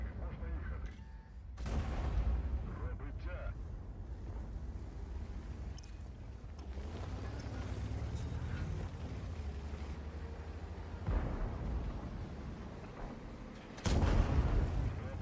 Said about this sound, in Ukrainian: Дивись, що арта твориться.